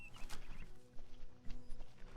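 Horse hooves clip-clopping in the Skyblivion game, an Oblivion remake, on a mount wearing horse armor, a steady walking rhythm of hoof hits at moderate loudness over a low game ambience.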